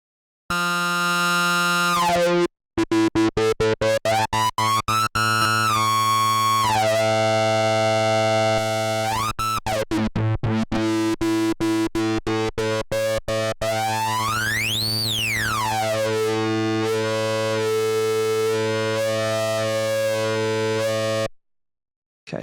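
Buzzy, distorted synthesizer notes from the Spire synth, with a resonant low-pass filter sweeping up and down, played as rapid staccato pulses and held tones, loud and alone.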